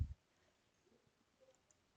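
A single short computer mouse click at the very start while using electrical design software (Lumine and QiElétrico), followed by near silence.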